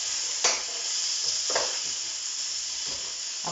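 Mince sizzling in a pan, a bright steady hiss broken by a few short scraping stirs, close up with no talking.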